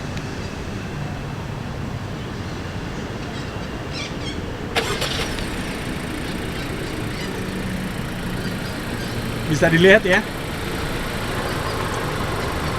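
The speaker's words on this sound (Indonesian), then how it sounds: "kita akan coba untuk menyalakan mesin atau menyalakan AC dari luar ataupun dari jarak jauh" Honda CR-V Facelift 2021 engine started remotely, a steady low idle hum running throughout, with a sharp shift in tone partway in and a brief louder burst of clatter near the end.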